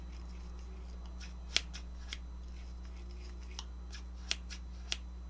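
Thick, heavy-bladed scissors snip several times in a quiet room, each sharp metallic click standing out faintly over a low electrical hum, with irregular pauses between cuts.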